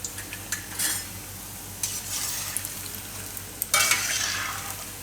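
Raw banana and fenugreek vada batter sizzles in hot oil, with a few spoon clinks and soft scraping, then a louder burst of frying as more batter drops in.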